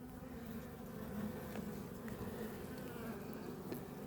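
Honey bees buzzing at a beehive during late-season pre-winter hive care, a dense continuous drone up close with a few brief louder passes, no talking.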